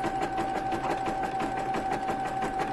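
A Brother Innovis 1500D sewing machine stitching at a setting of 350 stitches per second, giving a rapid, even mechanical chatter with a steady whine, close and continuous throughout.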